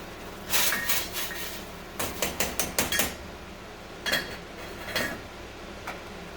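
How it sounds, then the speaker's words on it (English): Dry lentils and quinoa are tipped into a stainless steel pot of water just starting to boil, giving quiet, close clattering bursts: one early, a quick rattling cluster, then a few scattered ones. "So I'm going to dump them into the water."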